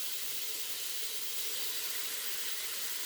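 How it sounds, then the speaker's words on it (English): Steady, loud sizzling hiss of steak browning in the bottom of a chili pot, continuous and unbroken throughout with no voices. "let's get the steak part of that cooking in the bottom of our pot"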